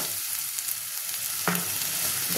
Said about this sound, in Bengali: এর মধ্যে জল দিয়ে এটাকে ভালো করে কষবো